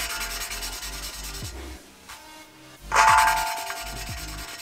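A valve is lapped into a cylinder head by hand with grinding paste, with close, gritty rubbing strokes, a short pause, then renewed back-and-forth scraping with a faint metallic ring.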